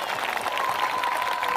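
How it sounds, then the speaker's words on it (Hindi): A congregation at a church service applauds loudly and steadily, with a dense wash of many hands clapping together throughout. "जिनको ये बात समझ में आ गई है वो जोरदार ताली बजाकर धन्यवाद करें।"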